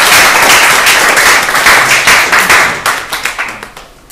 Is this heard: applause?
yes